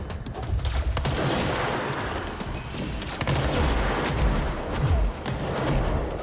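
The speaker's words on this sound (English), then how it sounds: "she's throwing 16 fucking grenades at the same time" Dense, loud burst of explosions from many grenades going off at once in the video game Control, with booming blasts overlapping continuously amid gunfire-like cracks, no talk.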